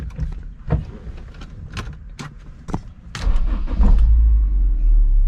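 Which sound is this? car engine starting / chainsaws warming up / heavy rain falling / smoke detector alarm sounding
car engine starting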